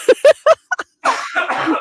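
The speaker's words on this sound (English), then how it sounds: "It's a coughing fest here" Three quick, sharp coughs close to the microphone, a short pause, then a stretch of muffled, noisy chatter.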